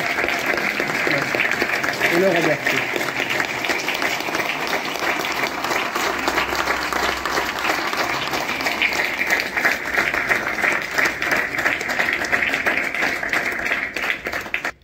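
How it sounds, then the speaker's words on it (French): Audience applause at a ceremony honouring France–Morocco friendship, with a consul general present; steady, dense clapping fills the whole span while someone speaks over it in French. "Mesdames et messieurs, je vous demande d'applaudir encore."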